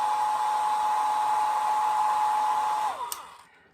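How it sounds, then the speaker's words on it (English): A hair dryer set on low with heat hums steadily with constant airflow, then switches off and winds down near the end, leaving near silence. "you can always just take your hair dryer. Any hair dryer will do."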